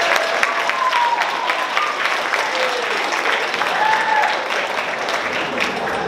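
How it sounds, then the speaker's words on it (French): Sustained applause from an audience at a secondary school Christmas concert, honoring the musicians; dense, steady clapping fills the whole stretch at a fairly loud, even level. "faites une ronde d'applaudissements chaleureuses pour nos excellents musiciens"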